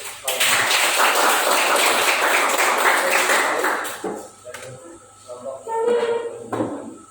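Classroom applause from students, a dense burst of clapping that fills the room for about four seconds and then thins into scattered claps, knocks and chatter.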